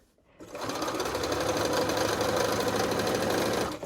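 A sewing machine stitches fabric at a steady fast pace, its needle mechanism chattering in a continuous rapid rhythm close by after a short quiet start, with no talking over it.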